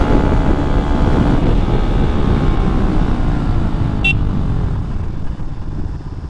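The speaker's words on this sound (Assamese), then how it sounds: "একদম ফিউল খতম মানে পুৰা ঝাটকা লাগি আছে গাড়ীখন মিছ মাৰি আছে" A KTM Duke motorcycle engine running rough while nearly out of fuel, a loud close uneven drone that misfires and jerks, with a brief high horn-like toot partway through before the note sags and fades slightly.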